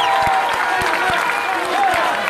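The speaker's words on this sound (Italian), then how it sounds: "fare un applauso ad Alessandro" Crowd applause at an outdoor political rally in a seaside town, loud dense clapping with some cheering voices and a few rhythmic beats underneath, continuing throughout.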